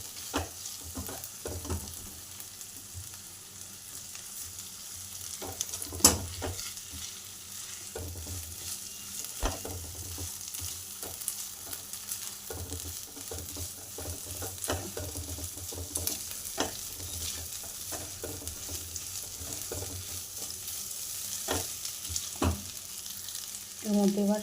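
Fried eggs are stirred into frying semai vermicelli in a pan, a soft continuous sizzle with repeated scraping and clinks of the spoon, fairly quiet and without talk.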